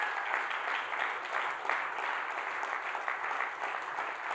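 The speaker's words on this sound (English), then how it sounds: "Clap your hands strong if you believe it." A church congregation claps their hands in sustained, fairly soft applause heard from a distance, an even wash of many hands with no voices over it.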